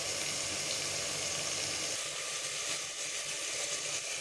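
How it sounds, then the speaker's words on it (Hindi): Onion, green chilli, tomato, salt, turmeric and red chilli frying together in a pan, a steady close sizzle with a constant hiss and no talk. "उसे 5 मिनट तक अच्छी तरह भून लेंगे मसाले को।"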